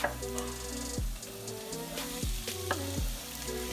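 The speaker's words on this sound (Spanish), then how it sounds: "Pon los tomates en el sartén." Tomatoes fry in a pan with a quiet, steady sizzle, nearly buried under louder stepped musical tones.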